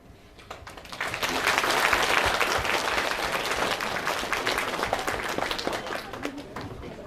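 An audience gives a concert tribute applause for the girls, a dense, steady wash of clapping that swells quickly after a quiet start and holds loud to the end, with a voice faintly underneath.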